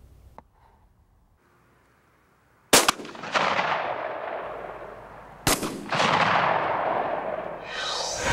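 A shotgun fitted with a modified choke tube fires at pattern targets on an outdoor range: two loud, sharp blasts a few seconds apart, each trailing off in a long rolling echo.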